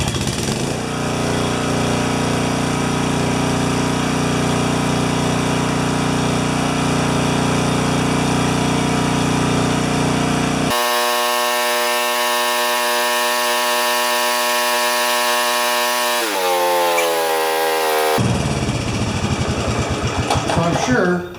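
A 12 HP Swisher bush cutter engine running with no load, loud and steady close up, its pitch shifting midway and then dropping before settling back to a rough idle.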